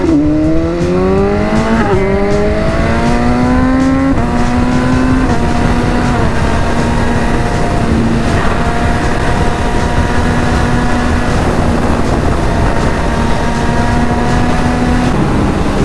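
A sport motorcycle ridden fast, its engine revving up through gears with rising and falling pitch under steady roaring wind noise, loud and continuous throughout with no talk.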